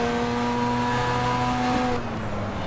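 Rotary engine of a Mazda RX7 Spirit R lapping the Silverstone National circuit, a steady high-pitched buzzing drone with layered harmonics that drops in tone near the end as the revs change, loud and close with no talk.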